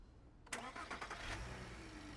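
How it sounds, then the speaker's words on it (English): A sedan donor vehicle's engine cranks and catches for a battery jump, starting with a sharp burst, then settling into a steady, fairly quiet idle. "she would go ahead and start the car, and she's going to let the car run"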